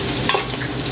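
Ginger and garlic stir-frying in a pan for pancit bihon give a short burst of close, bright sizzling with a quick scrape of stirring.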